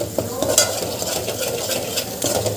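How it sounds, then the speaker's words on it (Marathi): Spices are stirred and sautéed in oil in a pan for a white bean curry, giving a close, continuous sizzle broken by the scrape and clink of a spoon against the pan. "हे मसाले आपण 1 मिनिट छान परतून घेतले आहे। यातून तेलही बाहेर सुटलेलं आहे।"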